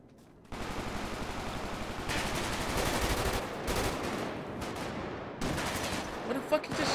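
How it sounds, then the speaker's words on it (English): Gunfire rings out in GTA, rapid automatic bursts arriving in several loud volleys separated by short gaps, the shooting coming from close by. "Where the fuck you just shot me from?"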